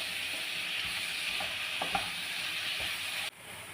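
Chicken pieces sizzle as they drop into a pan of cooked onions and tomatoes for a chicken stew, a steady frying hiss with a few soft stirring clicks, then the sizzle briefly dips near the end.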